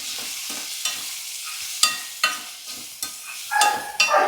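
Tomatoes fry in a pan for a mixed vegetable curry of cauliflower and broad beans, with a steady close sizzle broken by several sharp scrapes and clinks as they are stirred.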